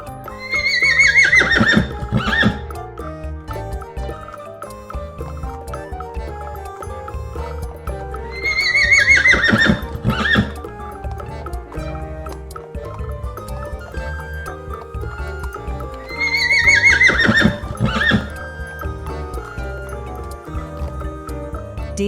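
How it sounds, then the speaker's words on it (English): A horse gives three loud, shrill whinnies spaced several seconds apart, with steady clip-clopping hooves and soft wet squishy noises running underneath between the calls. "Horse."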